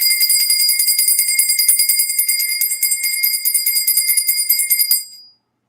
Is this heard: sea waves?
no